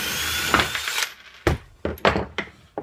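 A power driver backing out the handle screws on a hole jig machine: a brief whirring run followed by several short separate bursts and clunks, close and fairly loud, with no talking.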